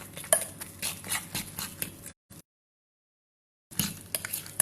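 A spoon scrapes and clinks around a bowl, mixing baba ganoush with tahini in brisk repeated strokes. The stirring breaks into a short silence before resuming, close and clear with no talk.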